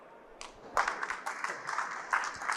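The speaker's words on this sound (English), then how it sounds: "please welcome with a big round of applause" Audience applause greets speakers arriving on stage at the Hannover Messe 2024 trade fair, a dense steady patter of many hands that swells after a quieter start and carries on strongly.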